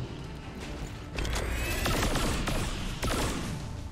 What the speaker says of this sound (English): Let's just take some shots at him.